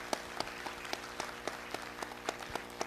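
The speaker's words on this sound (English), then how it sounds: "So the round of applause is for you above all." Thin, steady applause from an audience at a hospital hygiene awards presentation, faint and somewhat distant, with a few sharper individual claps standing out at a loose regular pace.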